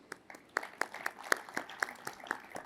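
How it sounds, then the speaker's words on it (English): An audience in Pune applauds with a round of scattered, fairly faint claps, each hand clap distinct and irregular. "a round of applause"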